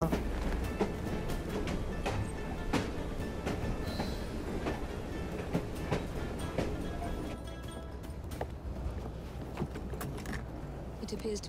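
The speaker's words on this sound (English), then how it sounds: "at least we have a train now" A train rattles past in the Victorian London game Assassin's Creed: Syndicate, with rhythmic clickety-clack, metallic squeals and clanks over a rumbling base, loud at first and easing slightly toward the end.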